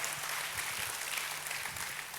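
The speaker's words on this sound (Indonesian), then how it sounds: "Tepuk tangannya yang paling meriah buat Tuhan kita." A church congregation claps together in sustained, lively applause during a worship service, a dense steady patter of many hands with faint low murmuring beneath.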